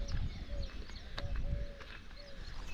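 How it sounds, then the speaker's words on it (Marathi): Birds call and chirp outdoors, several short tonal whistles repeating over a steady low rumble of background noise. "पाखरांचा लय चिचवाट असतो इथं"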